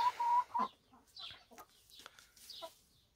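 Chickens clucking in a backyard poultry yard, a few soft, close clucks and short calls in an otherwise quiet setting.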